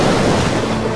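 Open-sea waves surging and washing in the Final Fantasy 15 video game, a dense, steady roar of surf with wind noise, loud and continuous throughout with no talk.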